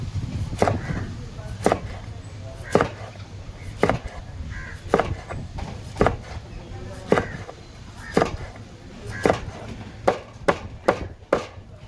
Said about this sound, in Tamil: இந்த மீனை இப்போ இந்த மாதிரி ஃபுல்லுமே ரவுண்ட் பீஸாக கட் பண்ண போகிறோம்